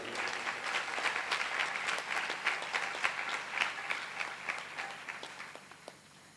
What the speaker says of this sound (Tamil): அவங்களுக்கு நம்மளுடைய ஒரு கரகோஷம்.